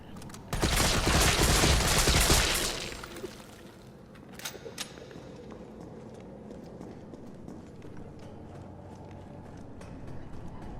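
A rapid burst of loud gunfire in Resident Evil 3 Remake, shooting at regenerating zombies in a cargo bay, lasts about two seconds, followed by quieter scattered shots, footsteps and ambient game noise.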